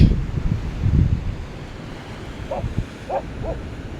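Wind gusts buffet the microphone in low rumbling bursts at Bouknadel near Salé, Morocco, easing off midway, with a few faint higher calls in the background.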